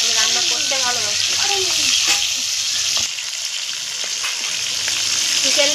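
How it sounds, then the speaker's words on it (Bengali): Pieces of chicken frying in a pan for chicken changezi, a loud continuous sizzle with stirring scrapes, close up, and a voice briefly heard over it at the start. "চিকেনটা তো লাল, হালকা লাল করে ফ্রাই করে নেওয়া হয়েছে"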